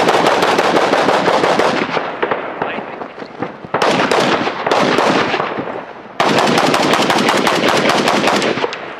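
An AK74 rifle fires rapid bursts, loud, close and sustained, with brief pauses between strings of shots and faint voices underneath.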